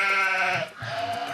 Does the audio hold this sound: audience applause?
no